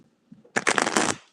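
A deck of tarot cards is riffled close by, a brief, dense burst of rapid flicking that lasts about half a second after a couple of faint handling taps.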